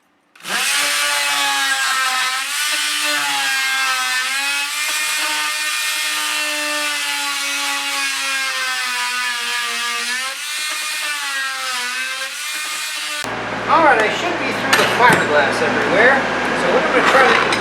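A power saw runs in a long, steady, loud whine while cutting through a wooden boat deck of fiberglass over plywood, its pitch dipping slightly under load, then stops and gives way to scraping and handling noises.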